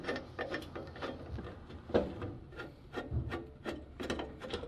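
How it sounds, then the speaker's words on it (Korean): Screws being driven into furniture panels with a screwdriver during assembly, giving repeated scraping, rasping turns and small clicks at close range, steady and moderately quiet with no talking. "이 밑에 쪽에 있는 구멍 두 개를 드라이버를 통해서 체결을 해 주시면 됩니다"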